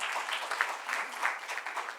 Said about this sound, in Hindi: मैं गुजारिश करूँगा कृपया जोरदार तालियों से उनका स्वागत करें।